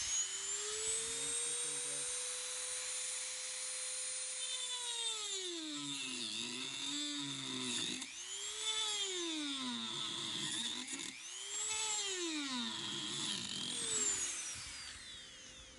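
A power tool cuts the old headlight lens off a 2014–2018 BMW X5. It whines steadily at first, then its pitch repeatedly dips and rises as the blade bogs down and frees up, moderately loud and with no talking.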